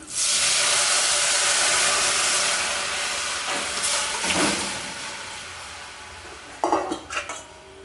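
A loud hiss of Chettinad lentil rasam poured into a hot oil tempering, fading to a softer sizzle, followed by a few clanks of a pot or utensil near the end.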